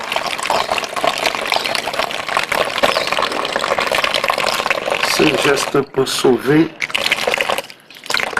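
Good running water for hand washing with soap, a steady tap-like rush heard throughout under a voice speaking French, in the Koto neighbourhood of Douala.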